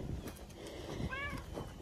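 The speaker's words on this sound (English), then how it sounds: "Oh, kitty." A house cat gives a single short meow outdoors on a farm, faint and close, against soft background rustle and low noise.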